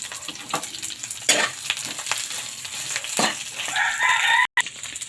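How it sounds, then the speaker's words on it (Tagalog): Shrimp sauté with garlic and onion in a hot pan, giving a loud, steady sizzle broken by stirring scrapes and spatters, with a rooster crowing faintly in the background near the end. "Bango talaga pag ginigisa yung bawang at sibuyas. Lagyan natin ng hipon."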